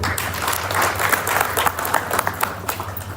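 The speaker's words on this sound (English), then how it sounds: "let's give them a round of applause as well" A meeting audience at a members' engagement session claps in a brief, dense round of applause, close and fairly loud over a low steady hum, with sharper individual claps standing out near the end.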